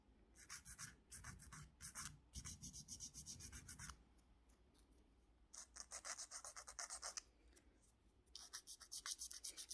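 An acrylic nail being filed and trimmed at home during a manicure: close, rasping strokes come in quick rhythmic bursts separated by short pauses, with no talking.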